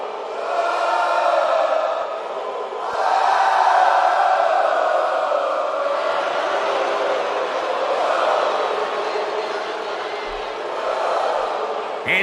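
Large arena crowd in WWE 2K22 wrestling, a sustained roar of cheering that rises and falls in broad waves without pause.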